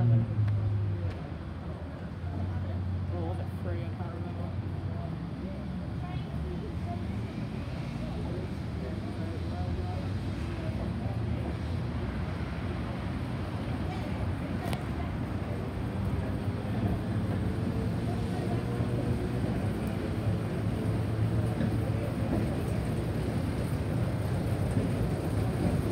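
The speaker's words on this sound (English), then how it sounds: "It's a rail grinder, and the fleet number is number 3." A rail grinder vehicle rolling along tram tracks, a continuous low rumble and mechanical drone that holds steady as it passes nearby; a person talks over it.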